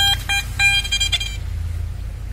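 A metal detector sweeps over gold coins inside a metal box, giving a quick series of short electronic beeps that stop after about a second, leaving only a low background hum.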